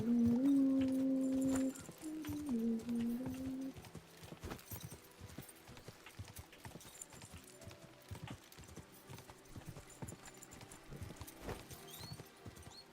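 Horse hooves clip-clop in a rhythmic series of sharp knocks in Kingdom Come: Deliverance II, with a brief whinny-like tone early on and faint game sounds around.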